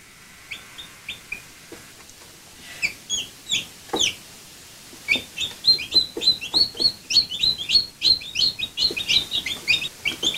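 Newly hatched chicks in a brooder give high, repeated peeping chirps that build from a few scattered calls into a busy, overlapping chorus, close by, with soft scratching and rustling underneath.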